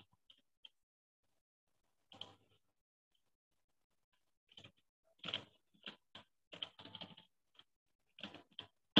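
Computer keyboard keys click quietly at close range, a few isolated taps at first, then bursts of quick keystrokes, over near silence with no talk.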